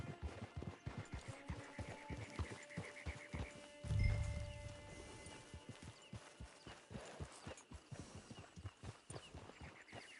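Horse hooves clop in a steady, rapid rhythm throughout in Red Dead Redemption 2, with a brief louder thud midway and faint ambient game sound beneath.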